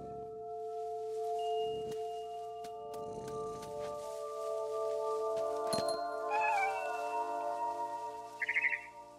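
In What Remains of Edith Finch, a cat gives a clear meow with a gliding pitch, then a short, quieter trill near the end, all over a soft, steady game music bed.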